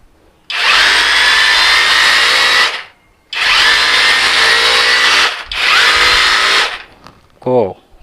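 An OSUKA OSRH-26 cordless brushless rotary hammer drill whines loudly in three sustained bursts separated by short pauses, close up, followed by a brief spoken voice at the end.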